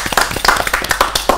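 A television game show audience claps, a brisk burst of close, sharp hand claps from a small group, uneven in rhythm and fairly loud, with no talking.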